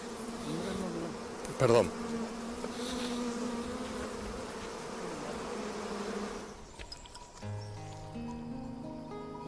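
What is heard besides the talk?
bees buzzing around rebuilt hives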